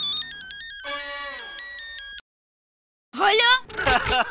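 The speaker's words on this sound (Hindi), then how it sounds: "वो कुटकुटिया का फोन है।" A mobile phone ringtone plays a bright electronic melody of stepped tones for about two seconds in a TV sitcom scene, cuts off into silence, and then voices begin talking.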